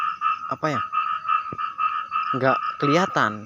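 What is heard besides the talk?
frog croaking while fishing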